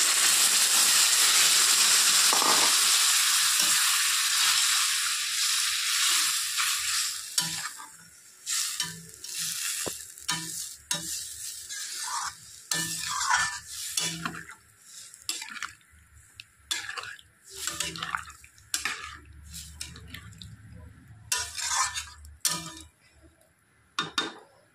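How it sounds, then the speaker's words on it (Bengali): Gravy for an egg curry boils in a pan, giving a loud, steady hissing bubble at first, then quieter simmering broken by repeated clinks and scrapes of stirring. "তো ঝোলটা উতলে গেছে"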